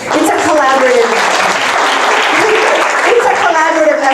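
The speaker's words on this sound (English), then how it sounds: "So I want to applaud her" An audience at a spiritual conference applauds, a loud sustained wash of clapping from many hands filling the room throughout while a speaker's voice carries over it.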